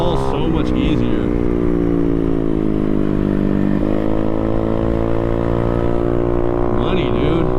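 Honda Navi motorcycle fitted with custom rearset foot pegs, engine droning steadily and close throughout a ride with turns, its pitch dipping slightly mid-ride, while a rider talks over it.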